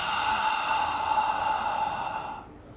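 Ujjayi yoga breath made by squeezing the throat, a single sustained, raspy ocean-like exhale heard up close and alone, tailing off at the end.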